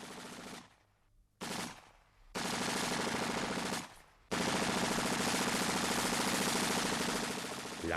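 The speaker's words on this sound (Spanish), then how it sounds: "al ser sorprendidas las avanzadillas de milicianos por las ametralladoras de los sublevados" Rapid machine gun bursts in an archival Spanish Civil War battle scene, loud and sustained, broken by a few short pauses before a long continuous stretch of fire.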